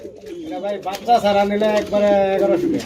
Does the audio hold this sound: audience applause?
no